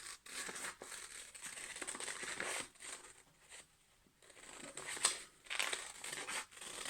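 Quiet crinkling and snipping of scissors cutting paper close by, a series of soft cuts with a brief pause in the middle.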